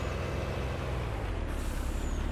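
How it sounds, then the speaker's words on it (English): A truck in Farming Simulator 19 rumbles at close range and brakes with a hiss of air brakes partway through, over a steady low engine drone. "this truck has good brakes on it"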